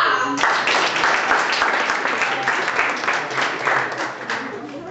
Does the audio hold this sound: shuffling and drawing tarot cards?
no